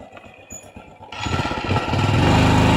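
A motorcycle engine idles with a low putter, then revs up sharply and holds a loud, rough, close roar as the bike is moved in out of the rain.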